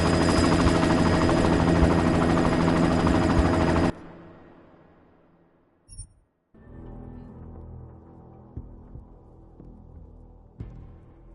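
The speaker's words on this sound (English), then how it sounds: "You've got to stop that chopper." A helicopter in the video game Deus Ex: Mankind Divided, its loud, dense rotor and engine roar lasting about four seconds before cutting off, followed by quieter scattered sounds.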